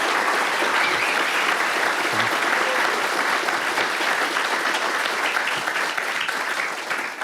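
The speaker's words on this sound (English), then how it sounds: "can we give her one more round of applause?" An audience applauds at the close of a talk, a dense, steady round of clapping that stays loud throughout.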